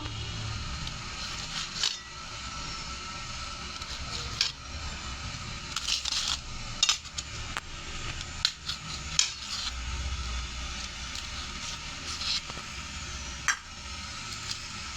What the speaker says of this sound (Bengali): যে এবার আমি এটাকে পিস পিস করে কেটে নেব